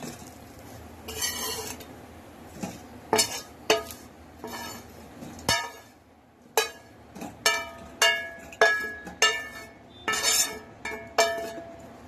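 Colocasia fry being moved from a pan into a serving dish, with a run of sharp clinks and scrapes of a utensil against cookware, close and fairly loud, arriving in irregular bursts with no talking.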